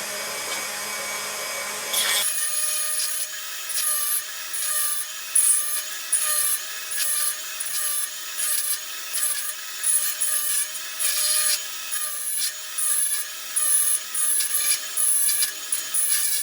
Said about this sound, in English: There's a fiberglass cutting disc, so I use the edges here to flatten it out a bit.